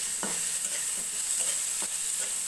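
Sweet pumpkin frying in oil in a pan and being stirred: a soft, even sizzle broken by a few spatula scrapes, close by and with no speech.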